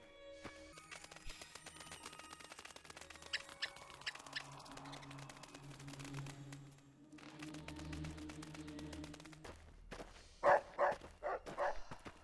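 A dog companion in the video game Fallout New Vegas gives a few short, sharp barks near the end, following scattered game effects and low background tones.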